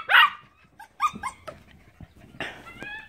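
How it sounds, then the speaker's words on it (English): Labradoodle puppies bark and yip on a back deck, several short high barks and whimpers scattered irregularly, fairly close and loud, with no talking. "between Helm and the puppies on the back deck, it got loud"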